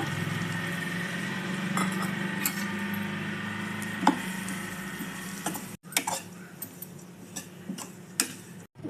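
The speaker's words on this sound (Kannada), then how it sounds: "ಈಗ ಸ್ಟವ್ ಸಿಮ್ನಲ್ಲಿಟ್ಟು ಓಟ್ಸನ್ನು ಹುರ್ಕೊಳ್ಳೋಣ" Oats roast in a pan over a low stove flame, with light ticking and scraping clicks from stirring scattered over a soft steady background, fairly quiet and close.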